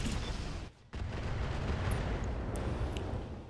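A tank cannon firing a shell in a tank battle video game: a heavy, sustained roar and rumble filling the whole clip, broken briefly by a short dip before the boom surges back.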